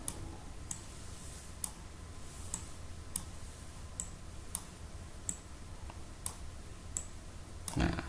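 Quiet, evenly spaced mouse clicks, roughly one every second, as vertices are selected in 3D modeling software, with a faint low hum underneath and a slightly louder click near the end.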